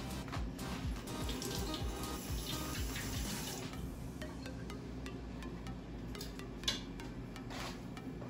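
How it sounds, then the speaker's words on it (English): Tap water runs steadily from a faucet into a sink while a rag is wetted, a continuous close splashing wash with small clinks and no talking. "right now I'm just gonna wet one side of the rag"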